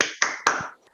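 A school class does a rhythmic spirit clap, three sharp, crisp claps in quick succession that end in silence.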